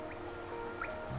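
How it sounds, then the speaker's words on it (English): Rain dripping inside a cavern city in the video game Hollow Knight, with a few distinct soft drips and squishy splashes over a steady wet ambient wash, fairly quiet and without speech. "the rain pours down from cracks in the stone above"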